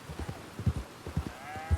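Horse hooves clip-clopping at a slow walk in Red Dead Redemption 2, about a dozen soft, close thuds in an uneven rhythm as the horse is brought to a stop.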